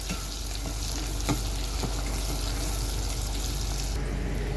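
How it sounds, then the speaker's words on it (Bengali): Onion frying with turmeric and chili in a pan, with a steady loud sizzle and the occasional scrape of a stirring spoon, close and continuous, with no talk. "হলদি মরিচ দেওয়ার পরে এটা ভালো করে মরিচটা পেঁয়াজটা ভালো করে মিশিয়ে ভাজতে হবে।"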